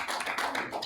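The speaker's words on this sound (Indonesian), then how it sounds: "Tepuk tangan sekali lagi untuk presentasinya yang luar biasa" An audience applauding after a presentation at a stage event, a short dense burst of close, steady clapping.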